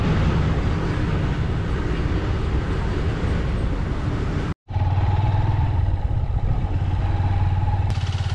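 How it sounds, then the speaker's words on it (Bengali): A freight train pulls out from the platform at Begunkodar station in Purulia, a loud, steady rumble and clatter of wagons close by, briefly cut off midway, then resuming with a lower droning hum. "স্টেশনে আসার সাথে সাথে একটি মালগাড়ি বেরিয়ে গেল এই প্ল্যাটফর্ম থেকে"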